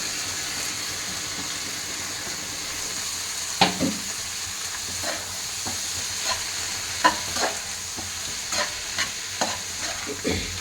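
Chopped tomatoes fry in butter for a restaurant-style paneer butter masala, a steady close sizzle broken by scattered sharper pops and stirring clicks, with no talking.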